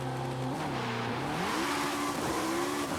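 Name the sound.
Ariel Atom V8 500 launching, engine revving, video game Forza Horizon 5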